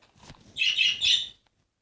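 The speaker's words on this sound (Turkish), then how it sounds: "Bizim kuş gene delirdi." Two bright, shrill bird squawks in quick succession, loud and close, with a faint rustle just before, in Minecraft.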